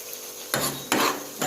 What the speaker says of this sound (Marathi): हे आपली चिकन मसाला दोन ऑर्डर आहे त्याची ग्रेव्ही बनवायला चालू आहे